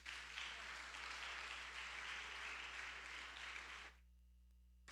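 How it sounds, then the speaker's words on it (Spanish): Steady applause from a church congregation, even and sustained for about four seconds before cutting off abruptly, leaving a low hum. "Denle un aplauso, Señor"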